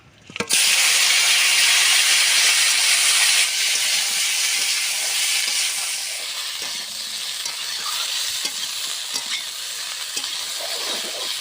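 A loud sizzle bursts out as potatoes and cauliflower hit hot oil, then settles into a steady frying hiss that eases slightly.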